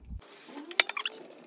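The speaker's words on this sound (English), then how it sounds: "hit it with some degreaser to get all of that residue left over from the WD-40" An aerosol can of degreaser hisses onto a mitre saw in a few short close bursts, quiet and alone, with a small thump just before the spraying starts.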